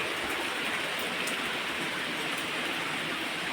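Steady rain falls outdoors, a soft, even hiss of drops on surfaces that continues unbroken at moderate distance with no voices.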